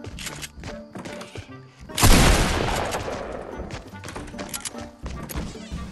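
A hunting rifle shot booms loudly in the video game Fortnite, a single heavy blast with a long rumbling tail amid lighter game clicks and thuds, with talk over the action.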